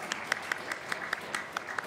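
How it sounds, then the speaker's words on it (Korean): A church congregation at a Wednesday service claps together in a brief, fairly even rhythm of distinct claps, moderately loud and without speech. "박수하겠습니다."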